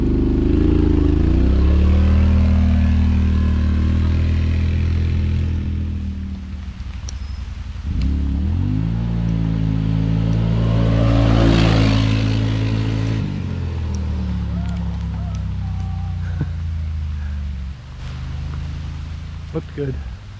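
A Yamaha Rhino UTV with a performance build accelerates hard through its gears on a drag run, the engine rising in pitch with each shift, loud and near, while people talk over it.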